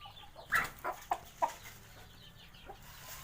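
A fighting rooster clucks in a few short, sharp bursts close by, then quiets, over faint low background noise.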